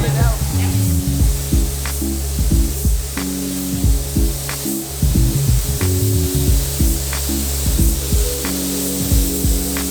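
Powder coating spray gun applying coating to car wheels, a constant loud hiss with rhythmic low mechanical thumps underneath and occasional voices in the background.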